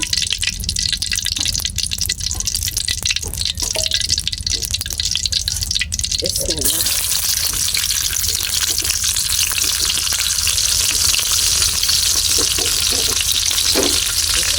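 Onion paste frying in hot oil crackles loudly and continuously up close; the sizzle flares into a brighter, fuller roar partway through, with occasional stirring and drips.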